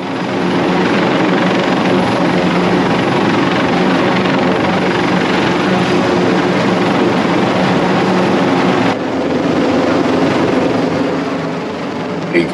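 A helicopter hovers over the deck of the Silver Nova cruise ship during a medical evacuation, its loud, steady rotor roar and wind rush filling the whole stretch without letup.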